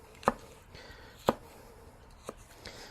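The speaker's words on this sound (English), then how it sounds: "You want to chop your jalapeno up also." Knife chopping a jalapeno on a cutting board, three sharp separate taps about a second apart, close and fairly quiet, with no talking.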